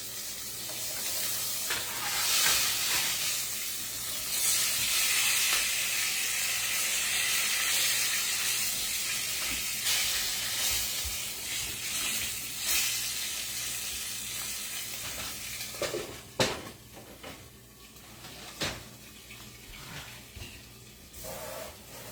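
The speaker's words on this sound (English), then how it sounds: "Hot grits popping at us" Hot grits sizzle and pop in a pot on the stove, a steady hiss of bubbling and spitting grease that thins out near the end into a few sharp, separate pops.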